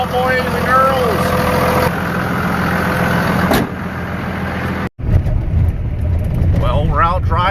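Old 24-valve engine in a fire-damaged vehicle running steadily at idle with a low, continuous rumble, while someone talks over it, the engine noise cutting out for a moment and then resuming.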